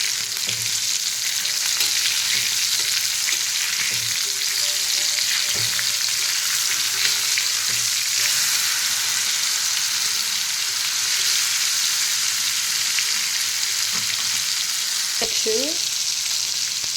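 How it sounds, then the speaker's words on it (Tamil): Fish fries in hot oil in a pan, giving a loud, steady sizzle throughout with faint scraping and stirring clicks, and no voices. "திருப்பியாச்சு நல்லா ஃப்ரை ஆகுது"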